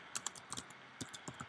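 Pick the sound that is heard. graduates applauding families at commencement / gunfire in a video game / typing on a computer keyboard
typing on a computer keyboard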